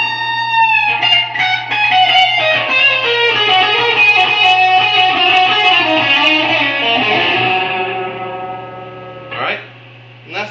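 Electric guitar playing the solo lick from a song: a continuous, loud melodic run with bends and slides over a steady mains hum, trailing off before a few brief final notes.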